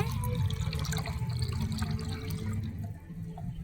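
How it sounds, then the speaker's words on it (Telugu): Rice-washing water is poured onto potted chrysanthemum plants, making a close, steady trickling splash with a few drips that ease off slightly toward the end. "ఈ బియ్యం కడిగిన వాటర్ని చామంతి పువ్వులకి ఇచ్చుకుందాం"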